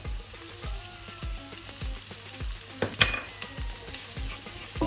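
Garlic and ginger paste fries with browned onion in a pan, a steady crackling sizzle with periodic scraping stir strokes, close and moderately quiet, no voices.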